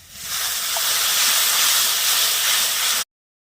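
Steam hisses loudly as water is poured onto spice paste frying in oil for a river fish curry, a steady close sizzle that lasts about three seconds before cutting off abruptly.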